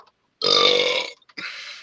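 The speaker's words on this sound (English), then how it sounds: "Better burp and taste it than fart and waste it." A loud, drawn-out burp lasts about three-quarters of a second, followed after a brief pause by a shorter second belch, both close up with no talking.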